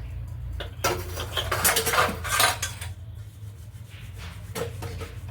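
A metal pot is scrubbed by hand with a tamarind and soap mix, producing loud bursts of scraping and clanking metal that come in irregular clusters, with quieter rubbing between them and no speech.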